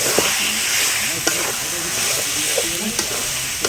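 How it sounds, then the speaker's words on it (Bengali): Meat masala, chicken masala and royal shahi spice mix with ground coriander, chili and turmeric stir-fried in a pan, a steady close hiss and sizzle with scraping stirs and a few sharp clinks. "মিট মশলা, চিকেন মশলা, আর সানরাইসের শাহি মশলা সব দিয়েছে, এবার ভালো করে কষা হবে"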